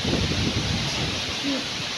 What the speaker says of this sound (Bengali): কি জোরে হাওয়া দিচ্ছে